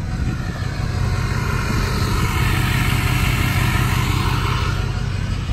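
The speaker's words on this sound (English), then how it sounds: "I don't know what's been done on the exhaust, but it sounds like a jetliner." A 2005 Ford F-250 Lariat diesel pickup with a modified exhaust runs with a loud, constant, jet-like roar and a deep engine rumble beneath it, steady throughout, with no voices.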